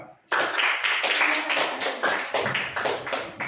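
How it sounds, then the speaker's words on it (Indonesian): A group of students in a classroom gives applause after a presentation, a loud burst of quick, uneven clapping starting abruptly after a short silence and continuing in rapid rhythmic pulses, fairly close. "tepuk tangan untuk kelompok 2."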